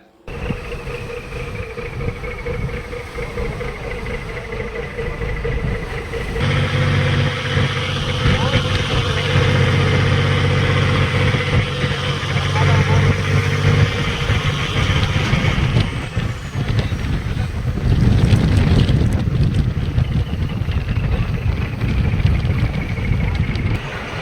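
A fishing boat engine drones out at sea, a loud steady low rumble that rises as the boat speeds up, with wind and water noise over it and a voice speaking partway through.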